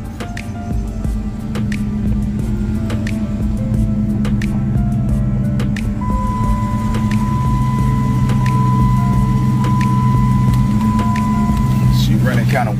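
A car left unused for about a month idles roughly, a loud steady low engine rumble with a thin whine joining midway, while someone talks over it.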